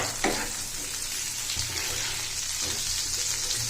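Whole spices (black cardamom, bay leaf, cloves, black peppercorns) and green chilli frying in butter on high flame, a soft continuous sizzle with light stirring clicks.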